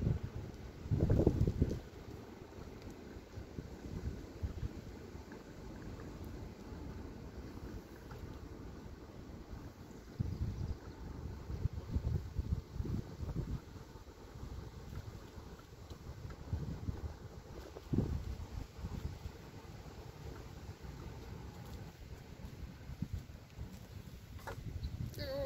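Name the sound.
wind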